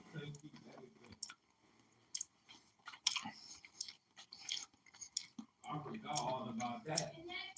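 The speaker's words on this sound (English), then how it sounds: "Then wait till you get through chewing like that, and then you talk." A man chews food with his mouth open, producing loud wet smacking and clicking sounds in irregular bursts, close to the microphone, with some voice sounds mixed in.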